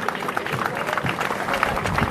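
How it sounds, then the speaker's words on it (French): Audience members clap at a 2017 legislative campaign launch, a lively patter of applause mixed with crowd murmur throughout. "qu'on puisse vous faire un tonnerre d'applaudissements"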